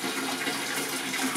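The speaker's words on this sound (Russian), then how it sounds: "заливаем чистую воду" Clean water pours steadily in a broad, rushing stream, loud and close, with no speech.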